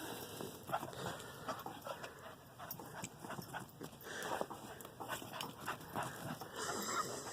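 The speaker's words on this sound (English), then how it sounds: "This is a dog that needed to get some outside time." A dog pants and moves about outdoors in snow during a blizzard, with rapid, rhythmic breathing and soft crunching footfalls close by, steady throughout with no talking.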